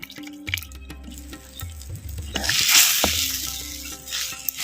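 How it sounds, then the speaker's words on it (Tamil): Tamarind water and masala simmering for small onion kara kulambu, a low steady bubbling with scattered drips and soft sizzle, close and fairly quiet throughout, without speech. "நம்ம சேர்த்த புளி தண்ணியும் மசாலாவும் நல்லா கொதிச்சு நல்லா வத்தட்டும்"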